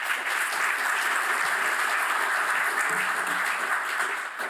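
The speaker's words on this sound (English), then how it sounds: "So please, may I have your applause for Surya." A lecture audience gives a steady, dense round of applause for the speaker, with many hands clapping evenly and fairly loudly throughout, with no voices over it.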